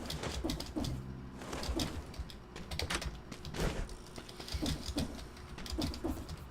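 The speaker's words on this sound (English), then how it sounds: "If you can hear the intense clicking of the spacebar here, I apologize." Rapid keyboard clicks, mostly the spacebar used for jumping while playing Dead Cells, tap out in a quick irregular rhythm, close and fairly quiet.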